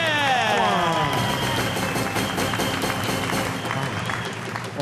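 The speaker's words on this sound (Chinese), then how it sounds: "再次给她热烈掌声好不好？" A studio audience at a stage variety show claps warmly for a performer, a dense burst of applause mixed with cheering and a musical jingle, fading slightly toward the end.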